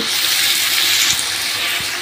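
Water poured into a pan of shrimp and taro stolons cooking, a loud, steady rushing splash that fills the moment, close and alone without voices.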